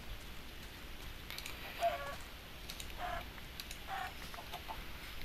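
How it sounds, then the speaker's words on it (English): Chickens cluck in the Minecraft video game, several short separate clucks coming and going at a moderate distance over a quiet steady background hiss. "I hear a chicken, but I don't see a chicken."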